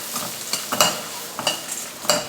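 A pan of frying ingredients with coconut is stirred, giving a steady sizzle punctuated by a handful of quick spatula scrapes and knocks in an irregular rhythm, close and fairly loud.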